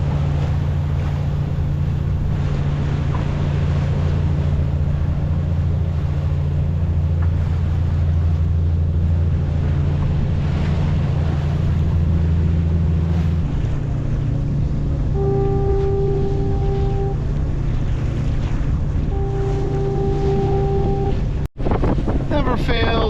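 The Avalon Express ferry cruising past at just under 23 knots gives a low steady engine rumble under wind buffeting the microphone. The rumble drops off partway through as a few tonal beeps sound.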